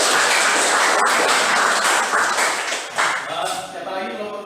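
A classroom group claps together for several seconds, a dense, steady patter of hands in a room that thins out toward the end as voices begin to mix in.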